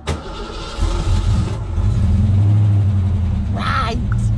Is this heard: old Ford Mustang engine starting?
yes